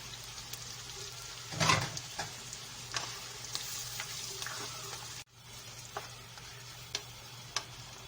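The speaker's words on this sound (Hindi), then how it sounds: "इसको भी हम थोड़ी देर भूनेंगे।" Mutton with tomato paste sizzles quietly and steadily in a pan, with a few soft clicks and one brief scrape of a spoon, and no talking.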